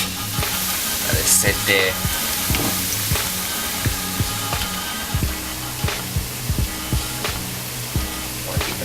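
Plantain pieces frying in hot oil for mofongo give a steady, bright sizzle throughout, punctuated by occasional clinks and taps of a utensil, with a brief spoken line over it.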